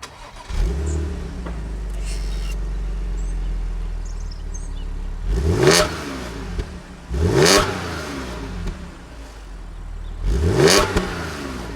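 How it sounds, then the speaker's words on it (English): A Mustang's engine idles low and steady, then revs sharply three times, each burst of exhaust roaring up and dropping back to idle. "You want to hear the exhaust?"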